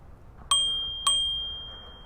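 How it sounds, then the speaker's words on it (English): Two bright bell dings from the handlebar bell on a Varla Pegasus electric scooter, struck about half a second apart, each ringing out clearly and decaying slowly in a quiet setting. "and a bell"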